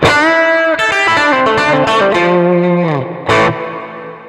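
An electric guitar through a Quad Cortex amp modeler, recreating a classic guitar tone, plays a short phrase with a processed, effected tone, notes sustaining and sliding with a slight chorused shimmer.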